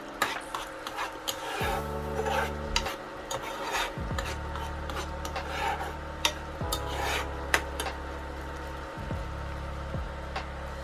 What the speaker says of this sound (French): On remue bien le tout